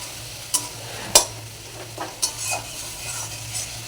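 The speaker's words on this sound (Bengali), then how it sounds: "মশলাটা দিয়ে হালকা ভাজা হয়ে যাবে" Spices fry with soybean chunks in a pan under a low sizzle, broken by a few sharp spatula clinks and scrapes against the metal.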